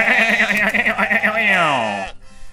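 Sheep in the video game Moirai bleat when poked, a run of loud wavering baas that rise and trail off before stopping abruptly.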